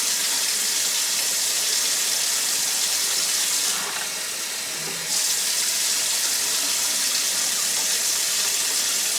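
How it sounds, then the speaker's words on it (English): Water pours from a measuring cup into a crock pot of collard greens, making a steady, close splashing rush that dips briefly midway and then resumes. "I'm just going to pour some water into these too"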